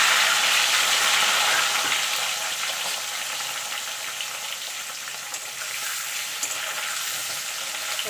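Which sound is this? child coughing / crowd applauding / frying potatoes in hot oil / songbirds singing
frying potatoes in hot oil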